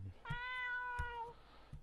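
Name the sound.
cat meowing in video game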